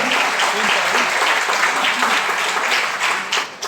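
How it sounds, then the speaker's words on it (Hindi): Loud, sustained applause from a seminar audience filling the room, steady dense clapping throughout with a slight dip near the end. "जोरदार ताली आप सभी अच्छे लोगों के लिए"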